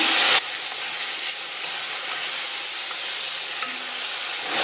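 Two medium tomatoes, finely chopped, sizzle and hiss steadily in a hot pan, with a loud burst at the very start easing into an even, continuous frying sound with faint stirring.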